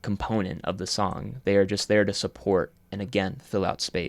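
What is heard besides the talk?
No everyday noise stands out behind the speech.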